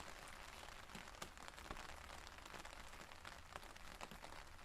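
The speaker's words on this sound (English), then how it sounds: "As I made my way back along the trail, the rain still pouring and the forest around me dark and slippery." Steady rain pours through a forest on the Hardergrat trail in Switzerland, a dense even hiss with scattered drops pattering nearby and no voices.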